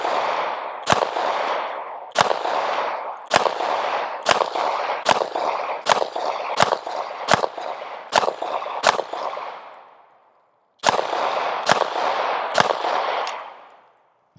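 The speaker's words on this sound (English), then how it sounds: "let's go ahead and shoot some on paper just to get an idea what kind of accuracy we get this" A SAR9 SOCOM pistol fires 115 grain rounds at a paper target about 10 yards away: roughly fifteen sharp, loud shots at a steady pace with a brief pause partway, each followed by a ringing decay.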